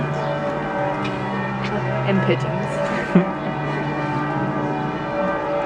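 Church bells ring at noon in rainy Ljubljana, a steady layered peal heard from shelter under a storefront amid rain and street noise, with a brief voice speaking over it.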